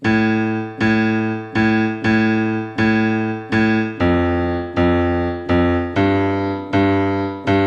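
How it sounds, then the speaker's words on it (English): Low piano bass notes sound alone, each struck and held in a slow, even pattern, with the pitch shifting after several repeats. "Left hand's very simple. You're gonna play each of these 3 times,"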